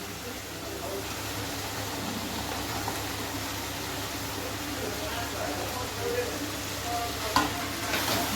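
Fried chicken pieces sizzling in hot oil and spice masala in a pan, a steady low frying hiss with occasional stirring scrapes and a sharp clink near the end.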